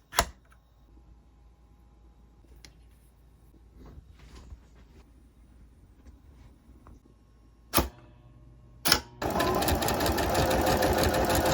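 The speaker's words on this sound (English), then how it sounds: "I'm just going to start stitching and see how that goes" A domestic sewing machine runs a straight stitch on stretch fabric for a Princess Leia cosplay dress. After quiet handling and a couple of clicks, the motor starts up loud and close and hums steadily to the end.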